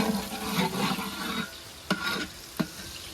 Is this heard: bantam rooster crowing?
no